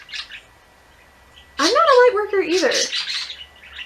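A brief faint chirp, then a voice speaks while birds chirp and squawk loudly close by, overlapping the talk.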